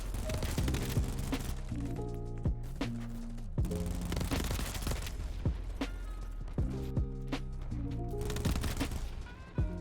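Rapid bursts of Vector SMG fire from the video game Battlebit, loud and close, with repeated clattering volleys set over a dense, busy background of game music or ambience.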